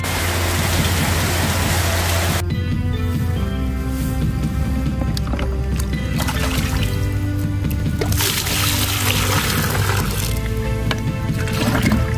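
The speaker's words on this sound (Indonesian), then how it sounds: "sore ini turun hujan yang lumayan lebat" Heavy afternoon rain falls steadily in a chili-growing area during the rainy season, a dense continuous wash of noise that stays loud for the whole stretch with no voices.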